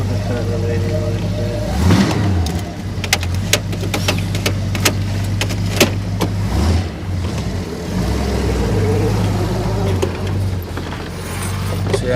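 A 1965 Ford Galaxie engine idles and revs while driving, with clicks and mechanical clunks, a few bumps, and a steady low hum throughout.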